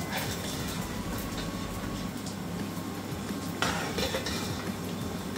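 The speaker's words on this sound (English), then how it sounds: "so I'm going to scoop them all out" Cooked beef for jollof rice is scooped out of a pot with a utensil, giving steady scraping and light metallic clinks against the pot, with a sharper knock partway through.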